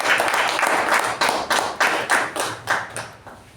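Audience applause at a Toastmasters club meeting greeting the Toastmaster of the day: a lively round of clapping with distinct, uneven bursts of claps, close and fairly loud, with no voices.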